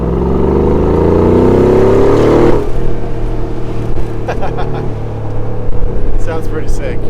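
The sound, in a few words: BMW F80 M3 engine and exhaust under load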